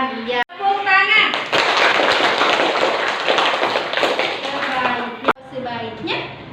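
A class of children claps in unison, a quick patter of hands that starts after a brief spoken cue, runs for several seconds and then stops. Children's voices follow with a short chanted exchange.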